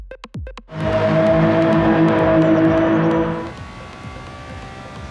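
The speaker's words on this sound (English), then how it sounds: "I'm using the Ferrari 330p4 for this lap." A Ferrari 330 P4 racing car laps the Goodwood motor circuit, its engine roaring loudly through a steady high-revving stretch after a quick burst of revs at the start, then dropping to a lower, quieter drone.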